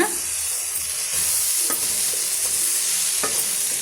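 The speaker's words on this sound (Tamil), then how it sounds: "இப்போ ஒரு முறை நல்லா வந்து கிண்டி விட்டுக்கலாங்க" A banana stem stir-fry with grated coconut is tossed in a pan, with a steady frying hiss and a few distinct spatula scrapes against the metal, close up and without speech.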